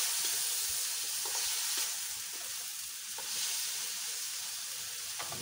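Chicken pieces sizzle and fry in a hot pan for a Filipino coconut chicken curry, a steady soft crackling hiss with faint stirring clinks, no talking.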